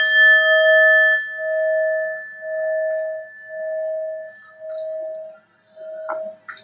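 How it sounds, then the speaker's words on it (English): A bell rings in a slow series of about seven clear, sustained dings, each tone ringing out and fading before the next strike. "let me ding the bell again"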